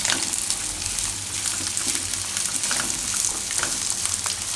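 Carrots and green beans frying in a pan for paneer jalfrezi, a continuous close sizzle and crackle with soft stirring scrapes, steady throughout with no voice.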